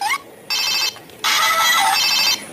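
A toy telephone rings in bursts of bright electronic trilling, loud and close, with short pauses between the rings.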